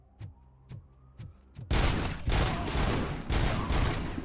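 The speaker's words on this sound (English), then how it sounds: "I think I'll stick to the heavy machine gun." Heavy machine gun fire in Robocop: Rogue City, opening with a few separate sharp shots, then breaking into a dense, loud sustained burst of rapid gunfire close up.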